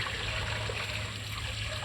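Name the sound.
river water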